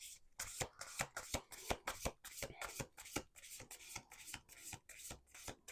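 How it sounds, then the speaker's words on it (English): A deck of cards is riffled over and over, a rapid run of crisp flutters and snaps repeating steadily for several seconds, close up. "I'm going to do one more shuffle."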